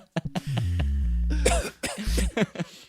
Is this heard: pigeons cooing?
no